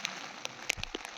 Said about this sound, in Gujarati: વરસાદ બીજી વાર ચાલુ થઈ ગયો છે,